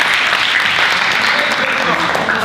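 Audience at a youth alliance fundraiser applauding, a loud dense wash of clapping throughout.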